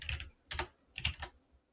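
Keys clatter on a computer keyboard in three short, quick bursts of typing with brief pauses between, close and fairly quiet, with no voices.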